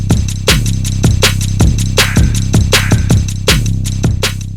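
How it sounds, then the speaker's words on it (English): A CM Trax drum machine beat, its kick and low end pushed into saturation for extra weight, thumps steadily with a tight repeating pattern of punchy kicks and crisp hits, loud and up close with no voices. "Turn amp low clockwise to apply saturation to the lower frequencies."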